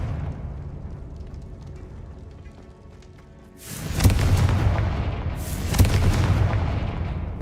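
Two Confringo fire-spell explosions go off in Hogwarts Legacy after a quieter stretch, each a sharp, loud, booming burst with a crackling rumble that lingers before the second blast hits.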